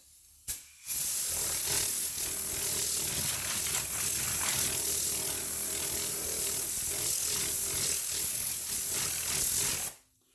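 A handheld air blow gun fitted with an air regulator blasts a steady, loud hiss of compressed air while a vehicle wheel is cleaned before curb-rash sanding, running nearly ten seconds after a brief click at the start.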